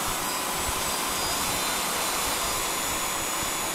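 UPAir camera drone descending over Lake Huron, its propellers giving a loud, constant broadband whir with no pauses.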